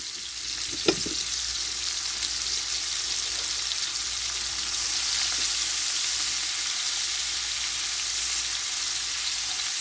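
Chicken fries in a pan alongside a small yellow onion, giving a steady, close hiss of sizzling fat that runs evenly throughout, with one sharp clink or stir near the start and no talking.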